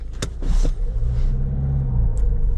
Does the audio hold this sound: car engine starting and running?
yes